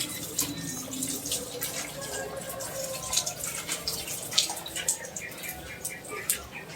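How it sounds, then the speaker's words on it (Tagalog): A thin, steady low-pressure trickle of water from a tap, with scattered drips and splashes, close and fairly quiet. "Bakit parang ang hina ng tubig?"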